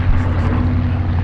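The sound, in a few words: B-17 bomber Sally B flying overhead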